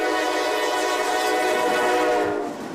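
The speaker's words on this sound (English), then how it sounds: "train's horn blares until it doesn't." A freight train horn blares in East Palestine, Ohio, where a train derailed, one loud sustained chord holding close and steady for almost three seconds before easing off, with a low rail rumble beneath and no voices.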